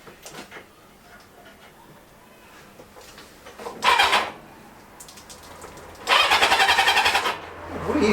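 A 1978 Kawasaki KZ650 motorcycle engine cranks over on its starter in two bursts, one about a second long and one about a second and a half, during a spark test. Quieter workshop sounds fill the gaps.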